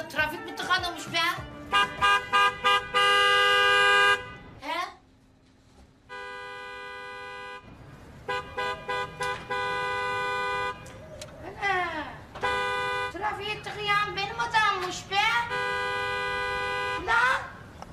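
Car horns blare in a traffic jam in a shantytown neighbourhood, with long sustained honks and short toots overlapping loudly, broken by a few brief gaps, while voices talk between them.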